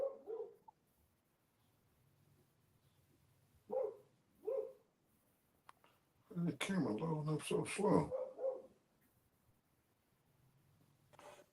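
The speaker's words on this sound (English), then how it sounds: "That sound like a big dog." A big dog barks in a few separate bursts in the background, sounding somewhat distant, with a louder flurry of barking in the middle, while someone talks intermittently nearby.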